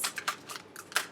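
A deck of tarot-style playing cards shuffled by hand, a quick series of soft riffling swishes in short bursts, close and fairly quiet.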